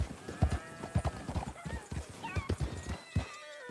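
Horse hooves clip-clop at a steady walking rhythm in the Western video game Red Dead Redemption 2, with a horse neighing briefly in between and faint talking in the background.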